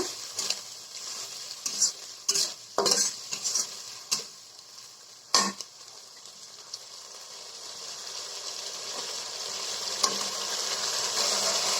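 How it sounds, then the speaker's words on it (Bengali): Whole spices such as cinnamon, cardamom, cloves and bay leaf fry in hot oil for a chicken curry, a steady close sizzle broken by repeated scraping stirs of a spoon against the pan. "এখন আমি মশলাগুলো একটু ভেজে নেব।"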